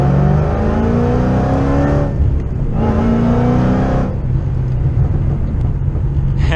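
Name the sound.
Shelby GT500 V8 accelerating with header-back Corsa exhaust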